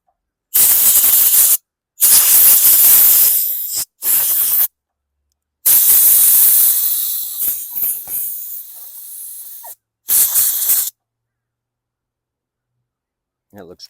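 A lawn mower carburetor from a 2019 Yard Machines 300E push mower gets sprayed with carb cleaner and blasted with compressed air, giving several close, loud hissing bursts of varying length separated by silence.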